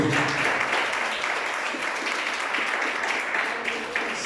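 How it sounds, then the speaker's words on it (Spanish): A church congregation applauds for Jesus during a Spanish-language sermon on spiritual reform, a continuous moderate wash of many hands clapping that carries evenly with no clear voices on top. "Un aplauso a Jesús."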